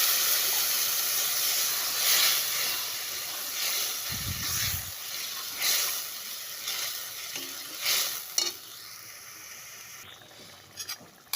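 Onion, chilli and garlic pastes sizzle and hiss in a pan of fried onions, a steady close frying crackle with brief stirring scrapes and clinks throughout.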